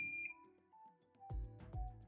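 A multimeter's continuity buzzer sounds while probing a Sony HT-IV300 circuit board: faint electronic tones at first, then a series of short, sharp beeps pulsing in quick rhythm close by.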